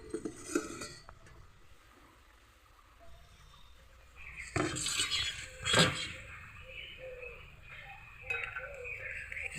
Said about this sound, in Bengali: কিছুক্ষণ পর ঢাকা তুলে দেব।